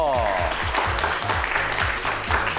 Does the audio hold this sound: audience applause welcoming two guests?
yes